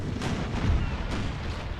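Ship cannons fire in a naval battle in Napoleon: Total War, deep rumbling booms overlapping one another, with a couple of sharper blasts rising over a continuous low roar.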